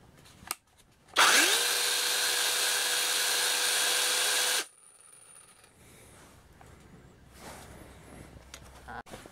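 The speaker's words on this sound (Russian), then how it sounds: "надо нажать на нее и включить пилу на холостом ходу" A cordless Rokodil Cutter Pro mini chainsaw starts with a click and idles with a steady, high, even whine for a few seconds, then cuts off, leaving quiet room noise.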